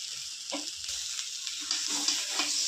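Fish paste being stirred in a pan with rounds of gondhoraj lemon, a soft scraping and light sizzle with irregular spoon strokes, close and steady, with no talking.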